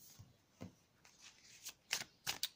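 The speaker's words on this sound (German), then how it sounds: "Lassen sich auch so super genial mischen." Fournier tarot cards, slightly slippery and of a generous size, being shuffled by hand: soft, close riffling bursts that grow denser and crisper toward the end, with quiet gaps between.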